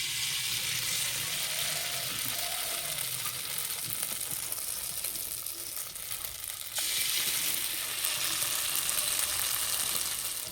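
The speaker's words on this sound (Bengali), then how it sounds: "কড়াই দেবো সাদা তেল। তেল গরম হয়ে গেছে, এবার 1 হাতা করে দিয়ে দেব।" Semolina and sour yogurt batter frying in hot white oil in a wok, a steady broadband sizzle running throughout that swells louder near the end.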